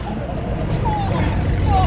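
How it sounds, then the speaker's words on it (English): A Corvette engine roars loudly and continuously right beside the listener, a heavy low rumble with high whining tones over the top and some crowd noise mixed in. "that Corvette almost made me deaf"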